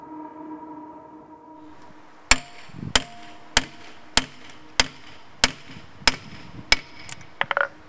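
Stone splitting under hammer blows: after a quiet stretch, nine sharp, evenly spaced metallic strikes ring out about every half second, close and clear, ending in a few quicker taps.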